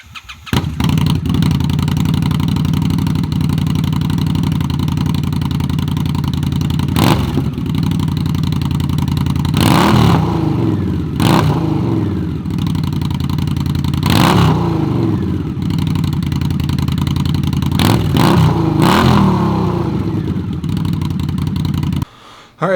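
An Indian Scout motorcycle fitted with a shorty GP-style slip-on exhaust idles with a deep, steady rumble, then revs sharply several times in quick bursts, loud and close.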